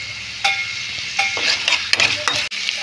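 Chopped onion, garlic, ginger and green chilli frying in hot oil, a bright sizzle broken by several scraping stirs of a utensil against the pan, close and fairly loud with no talking.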